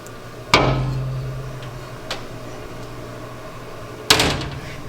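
Cabinet doors fitted with handles made from wrenches swing open, giving three distinct knocking clunks, a sharp one near the start, a softer one midway and another sharp one near the end, over a low steady room hum.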